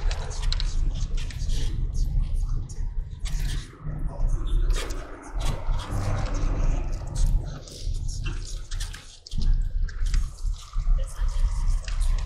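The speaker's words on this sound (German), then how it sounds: "Dann fahren wir noch eine Runde durchs Wasser," An off-road taxi vehicle splashes through a pool of water, with sloshing, dripping and churning water over a low engine rumble, interrupted by brief pauses, while voices are heard faintly.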